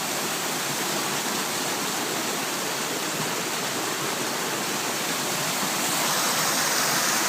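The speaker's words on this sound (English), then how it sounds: "There's a little waterfall from the mill, and then it goes right back down into the river again, or the brook" A small waterfall below an old mill pours into a brook, making a steady, dense rush of water that holds constant throughout with no voices.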